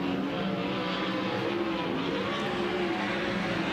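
Monarch Ford race car number 2K at Thunderbowl Raceway during a Kubota High Limit Racing event, its engine a continuous loud droning roar on the track, steady throughout with no talk over it.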